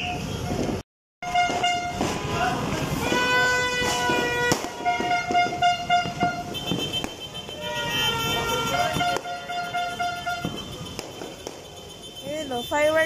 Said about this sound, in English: Fireworks ulit.